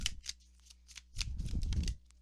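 A card drawn from the Histoire de sorcière oracle deck: two brief bursts of crisp card shuffling and riffling, a short one near the start and a longer, louder rustle later, close by with no talk.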